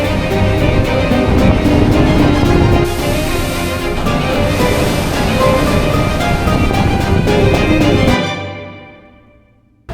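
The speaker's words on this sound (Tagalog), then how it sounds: "Malakas na talaga yung alon." Strong sea waves and wind batter a ferry crossing between Luzon and Mindanao in the Philippines, a loud, continuous rushing roar that holds for about eight seconds before fading away abruptly.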